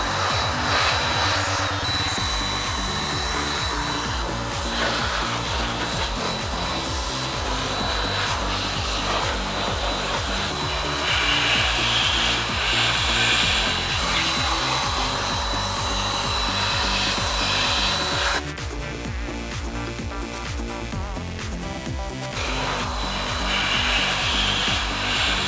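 A Pro Blower air blower dries a freshly washed car engine bay with a continuous loud, breathy whoosh that shifts slightly in tone as the nozzle moves, running steadily throughout with no talking.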